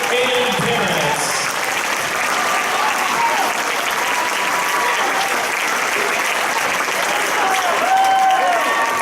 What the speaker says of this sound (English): Let's give all our seniors a round of applause.